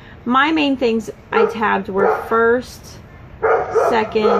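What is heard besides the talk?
dog barking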